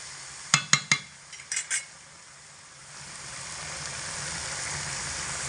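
Khichuri stirred in a pot: a quick cluster of metal spoon clinks and scrapes against the vessel, followed by a steady soft hiss of cooking, no voices.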